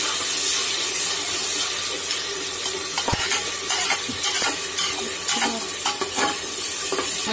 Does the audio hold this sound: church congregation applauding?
no